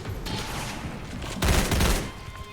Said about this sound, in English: Oh, right, return fire.